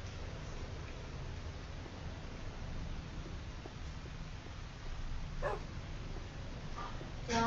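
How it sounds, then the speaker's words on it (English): Minecraft dog barking in a few short, faint yips over a steady hiss of game ambience, with a brighter burst near the end. "Doggy."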